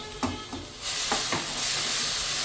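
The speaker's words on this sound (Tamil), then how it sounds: "இதில் சேர்த்தி இது நல்லா எண்ணெய் பிரிகிற வரைக்கும் நல்லா வணங்கணும்" A spoon scrapes a few times through egg masala gravy with tomato while it fries in oil in a pan, and a steady close sizzle swells and hisses beneath the knocks.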